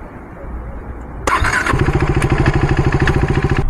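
A KTM RC390 motorcycle cranks and fires up before a burnout, the engine catching abruptly and settling into a loud, close, throbbing idle over low background noise.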